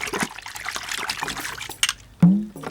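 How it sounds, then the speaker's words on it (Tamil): A drinking glass is rinsed under running water, with a steady trickle and splash through most of the stretch, then a short pause and a louder close gush near the end, with no talk. "இத பார், கிளாஸ் நல்லா கழுவுறேன்."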